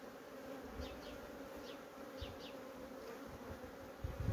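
Honeybees hum on a hive frame during a varroa brood treatment, a dense steady buzz close by with a few brief louder passes of single bees and faint handling thumps.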